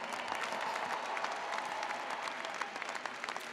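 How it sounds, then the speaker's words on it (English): Crowd applause at the Kean University 2023 undergraduate commencement ceremony, a continuous, fairly close wash of many hands clapping with no voices over it. "Let's give our university a round of applause."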